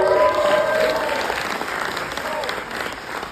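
An audience applauds at a game awards presentation, loud sustained clapping that fills the hall and tapers slightly, with a brief musical tone at the start.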